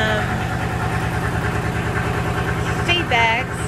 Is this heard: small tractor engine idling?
yes